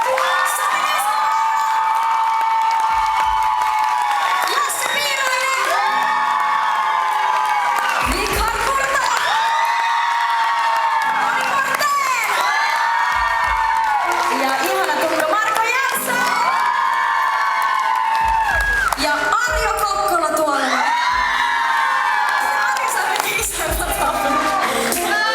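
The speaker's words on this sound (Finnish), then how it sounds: "Joten pistetään siitä aplodit." An audience cheers and whoops loudly and without a break after a call for applause for a Finnish project team, the crowd noise steady and close with shouts rising and falling over it.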